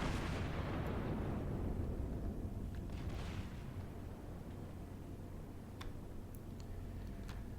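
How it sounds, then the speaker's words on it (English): Heavy battleship main-gun salvo in World of Warships, a deep booming rumble filling the opening seconds and rolling off into sustained low noise, with a few faint ticks later and no talking. "Got a couple of decent hits with my first salvo though"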